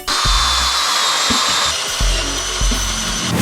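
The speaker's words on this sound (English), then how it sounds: "every time you drill in a little bit into this weird cardboardy wood stuff, this happens" A power drill whines steadily as it bores into soft, cardboard-like wood panelling on a narrowboat, the motor loud and close with slight pitch shifts and low knocking underneath.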